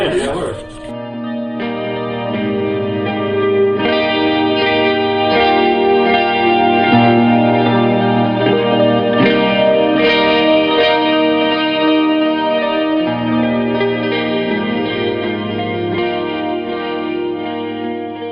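Loud, heavily distorted music from a metal band during a sound check, played continuously with sustained chords and pounding low end.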